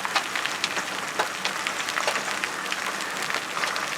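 Giant hail pounding down during a supercell storm in southeast Queensland, a loud, dense and continuous rattle of impacts with sharper cracks scattered throughout.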